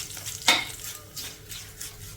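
Garlic, curry leaves and turmeric powder frying in a pan for a tempering. A sharp stir scrapes once near the start over a soft, steady sizzle, heard close up.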